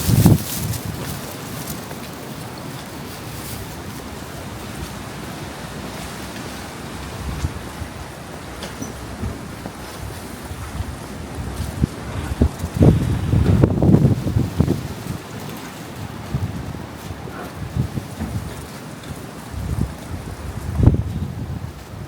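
Strong wind roars during a huge storm on a street walk in Beijing, a steady buffeting rush across the microphone that swells into heavier gusts toward the middle and end.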